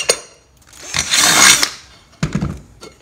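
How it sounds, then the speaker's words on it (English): A power drill bores a hole through the center of a metal part, a loud rising whine lasting about a second, followed by a shorter second burst of drilling and a thump at the start. "drill a hole."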